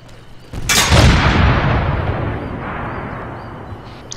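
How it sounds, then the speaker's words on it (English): A single loud explosion in the video game Arma III bursts sharply after a quiet moment, then rolls and rumbles away into a long fading tail. "I'm gonna take my night vision off and watch this pretty explosion."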